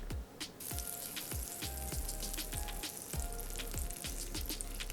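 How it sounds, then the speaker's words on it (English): Thick slices of Spam fry in butter, a steady close sizzle with scattered pops and crackles running throughout without a break. "And frying them in butter."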